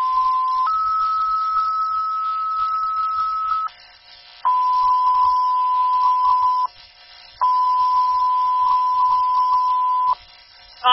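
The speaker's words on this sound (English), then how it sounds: "Repeating the tone is for Alstead, upgrade to a second alarm, 65 High Street, fully involved structure fire." Fire dispatch alert tones for a second-alarm upgrade to a fully involved structure fire in Alstead, New Hampshire: a loud, clean two-pitch tone, then two long steady tones with short gaps, heard alone.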